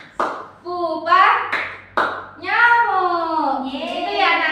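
Young pupils in a third-grade science lesson clap along to a rhythmic group chant, several crisp claps spaced through the passage with children's singing voices filling the gaps.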